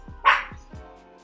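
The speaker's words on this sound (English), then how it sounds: "my dog won't stop barking" A single sharp dog bark rings out close by, followed by a couple of soft thumps, all very brief.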